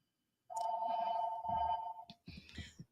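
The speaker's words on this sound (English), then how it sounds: "house phone is ringing." A house phone rings with a sustained electronic tone, followed by shorter chirping bursts, fairly faint against a quiet background, during a college basketball broadcast from the Galen Center.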